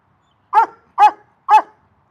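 A dog barks three times in an even rhythm, each bark loud, close and sharp, with clean silence between them and no voices.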